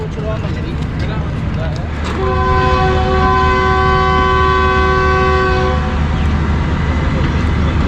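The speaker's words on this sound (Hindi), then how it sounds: "पाँच मिनट रुकने के बाद डिपार्चर हॉर्न सुन लिया आपने।" A long, loud train departure horn blasts steadily for several seconds over the rumble of a train at Toba Tek Singh Railway Station, Pakistan, with a voice talking beneath it.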